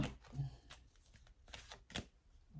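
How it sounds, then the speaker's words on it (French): Oracle cards from a mirror-themed deck are drawn and handled, making soft, faint papery slides and flicks in a few irregular bursts close by. "je prends 6 cartes avec l'oracle des miroirs"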